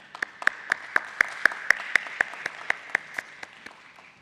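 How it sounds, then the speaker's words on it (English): An audience at a stock exchange listing ceremony for AMI Organics Limited in 2021 claps in an evenly spaced, rhythmic pattern over a low room hum. The claps are fairly close and fade slightly toward the end. "Let's have a huge round of applause for Mr. Ashwin Ponen from Ad Factors Advertising and PR."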